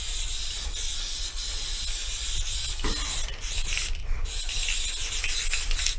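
Aerosol spray can applying stain blocker to a water-damaged ceiling, a steady close hiss running continuously with brief dips and faint mechanical rattles.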